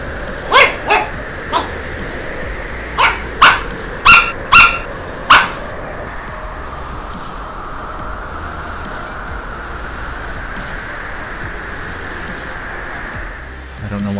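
A dog on a street barks about eight times in quick, sharp bursts over steady outdoor background noise. The barking then stops and only the constant ambient rush remains.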